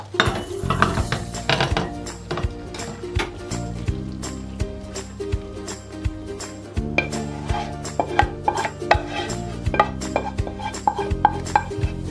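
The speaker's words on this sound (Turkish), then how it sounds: "Şöyle yuvarlak bir borcama döküyorum arkadaşlar" Cooked spinach scraped and tipped from a pan into a round glass baking dish, with metal utensil clinks and knocks close by, no speech.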